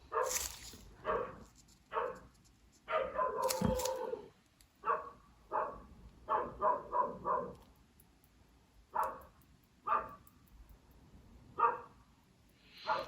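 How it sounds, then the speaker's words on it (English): A dog barks in short, loud bursts close by, some doubled and some single, with quiet gaps between them in an indoor setting. "guard dog impression."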